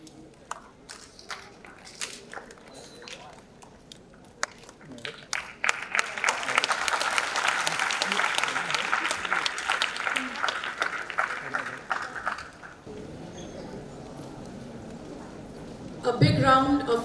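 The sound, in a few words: audience applause at school annual day function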